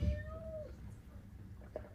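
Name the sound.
person imitating a cat meowing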